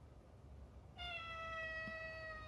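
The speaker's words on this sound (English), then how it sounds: "That's my cat, just in case anyone's asking what's going on there." Domestic cat meowing once, a drawn-out, slightly falling harmonic cry that rises above quiet background noise partway through, close but fairly soft.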